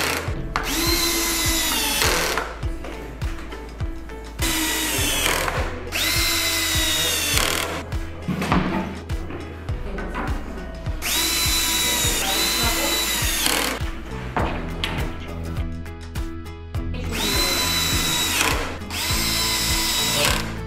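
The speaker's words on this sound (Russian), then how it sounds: "Мастер на видео использует шуруповерт." A cordless screwdriver drives euro screws into the wooden frame of a bed, repeated loud whirring bursts of a few seconds each with short pauses between them, the motor pitch rising and falling as each screw seats.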